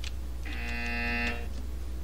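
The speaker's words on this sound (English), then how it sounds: "You will hear a buzzer." A steady electronic buzzer from the video game Portal 2 drones for about a second over a low background hum, alone with no talking.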